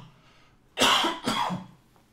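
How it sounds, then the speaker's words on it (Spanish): Two sharp coughs in quick succession, close and fairly loud, in an otherwise quiet room. "me han vacunado y ahora no paso de toser"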